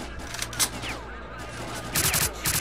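Gunfire rattles through a firefight in the video game S.T.A.L.K.E.R. Clear Sky, with scattered shots early on and a denser, louder volley of bursts toward the end, mixed with faint background game sound.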